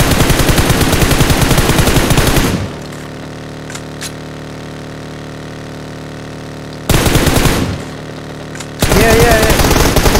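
Rapid bursts of automatic gunfire in the battle royale game PUBG, loud and close, opening the clip, breaking off into a low hum, then returning in two more sustained volleys.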